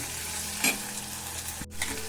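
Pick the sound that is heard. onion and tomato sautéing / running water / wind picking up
onion and tomato sautéing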